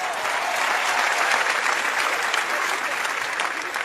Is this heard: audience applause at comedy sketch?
yes